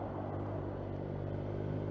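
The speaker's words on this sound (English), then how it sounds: "when I got the bike it came with a Triumph exhaust, but slightly louder than the standard." A deep, throaty engine rumble drones steadily and loud, a Triumph motorcycle idling through a louder Triumph exhaust with a heavy, bassy note.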